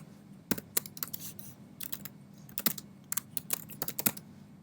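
A computer keyboard is being typed on to enter a file name, with irregular bursts of crisp, close key clicks over a low steady background hum and no one speaking.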